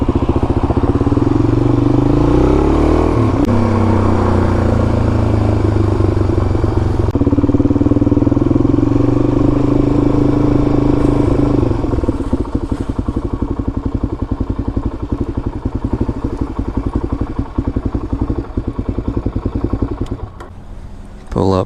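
Suzuki DRZ motorcycle with an FCR39 carburetor riding along a scenic shortcut, its engine droning loudly and continuously with a revving swell early on, then settling to a rougher, choppier note near the end as it slows; a voice talks over it.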